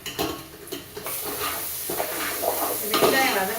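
Onions frying in a pan for vegetable biryani, a soft sizzle with scraping stirs and light metal clinks, close and moderately quiet.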